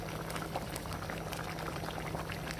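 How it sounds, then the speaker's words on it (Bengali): A pot of curry simmers with sliced green chillies going in, giving a steady, close bubbling that stays even throughout with no distinct splashes and no talking. "কাঁচামরিচ ফালাইগুলো আমি এখানে দিয়ে দিচ্ছি"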